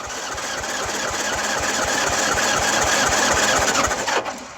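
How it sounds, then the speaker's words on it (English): A warm Honda GL1200 Gold Wing engine cranks over steadily on the starter during a compression test, with a fast even chugging pulse for about four seconds, loud and close, before it stops. "let's give it a run through on a warm motor."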